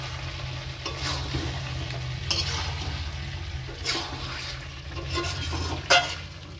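Chicken curry with fried potatoes is stir-fried in a pan: a steady low sizzle runs beneath repeated scraping strokes of the spoon, with a sharp clatter near the end.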